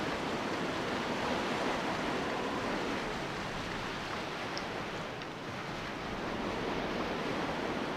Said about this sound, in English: and now all the water's coming back